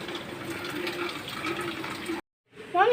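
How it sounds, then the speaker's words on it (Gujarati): Steady rain pouring down outside a house during a windstorm, a dense continuous hiss of falling water that cuts off abruptly near the end, followed by a brief faint voice. "વરસાદ એવો આવે છે સરસ મજાનો"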